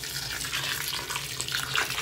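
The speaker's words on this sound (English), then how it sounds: "And now I'm going to add some water." Water poured from a tap into a pot of boiling rice for a traditional Jewish Sabbath dinner, a continuous soft splashing stream, fairly faint and with no talking.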